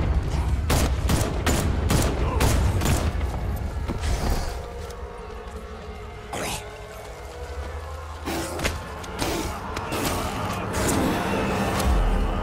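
Gunfire in Batman Arkham Knight, a dense run of sharp repeated shots early on, then scattered bangs and clanks over a rumbling game backdrop, fairly loud and continuous.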